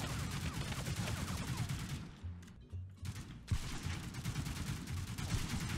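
Rapid bursts of gunfire crackle in a Toy Story toy soldiers video game, dense volleys that break for about a second before resuming loud and close.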